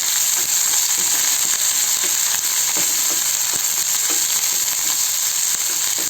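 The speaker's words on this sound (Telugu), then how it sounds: "కొద్దిగా జీలకర్ర దీన్ని కూడా మనం బాగా వేయించేసుకొని ఆ ఎండుమిరపకాయలు దాంట్లోనే వేసేసుకుందాం" Cumin seeds and dried red chillies frying in hot oil in a pan, giving a steady, dense sizzle with faint crackles and scrapes throughout, close and even.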